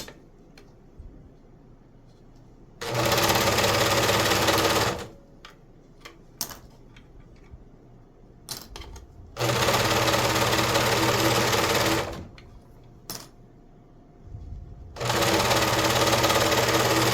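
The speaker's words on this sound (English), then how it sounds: "so now we have both sides serged" Serger overlock machine stitching the seams of a small dog shirt in three loud, steady whirring runs of about two seconds each, separated by quiet gaps with scattered clicks and fabric handling.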